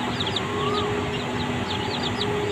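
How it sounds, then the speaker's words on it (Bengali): Chickens on a farm with young hens and a large rooster cluck and chirp in quick, overlapping calls against a busy, constant background, heard close and with no talking. "দেখছেন মোরগটা কত বড় সাইজ"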